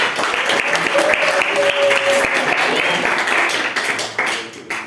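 A school class claps for a student group, a loud, close burst of many hands with some distinct individual claps, fading slightly toward the end.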